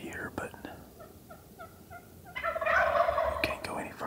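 Wild western turkeys gobble from a wooded creek bottom, with several short repeated gobbles at a distance followed by a louder, fuller burst of gobbling.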